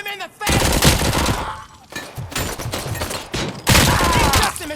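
Heavy gunfire in RoboCop: Rogue City, dense overlapping bursts and automatic fire filling the whole stretch, loud and close, with shouted voices mixed in.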